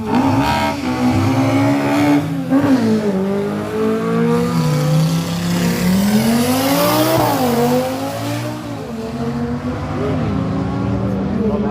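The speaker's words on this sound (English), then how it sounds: "It's a nice sounding engine" A loud, raspy five-cylinder Audi drag car engine revs up and climbs through its gears, pitch sweeping upward in surges, heard close with some background voices at a drag racing day in Killarney.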